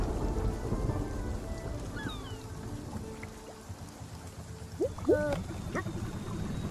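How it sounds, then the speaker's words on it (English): Rain and rumbling thunder from a storm in the video game Spiritfarer, with a steady downpour, a low thunder roll, and a few brief chirping game cues near the end, no talk. "The cat can accidentally gather lightning."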